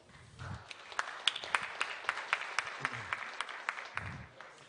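A small audience at an industry conference on production efficiency and automation claps for an introduced speaker, sparse distinct claps in an uneven rhythm, quiet and somewhat distant, with a brief murmur of voices at the start and end.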